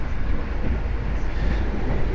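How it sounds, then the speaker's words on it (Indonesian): A new-generation stainless steel economy train runs at 110 km/h on the Bandung–Yogyakarta route, making a steady, loud rumbling roar with no distinct clacks and no voices. "Kereta ekonomi new generation stainless steel ini lari di angka 110 km per jam"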